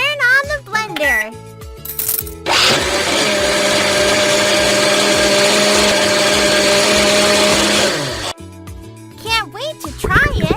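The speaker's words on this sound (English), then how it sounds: "Turn on the blender." A blender whirs steadily for about six seconds in a kids' animal hair salon video game, a loud continuous motor drone with cartoonish game sounds and effects before and after it.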